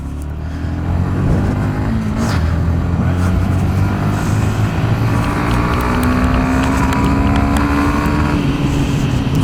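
2021 Yamaha XSR 125 motorcycle ridden through corners, a steady close engine drone rising and falling in pitch under strong wind noise.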